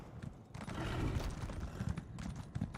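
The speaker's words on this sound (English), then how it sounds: "Blood horse for vampire." Vampire blood horse galloping in The Elder Scrolls Online, its hooves pounding in a quick, steady clip-clop rhythm, fairly close and loud, over game ambience.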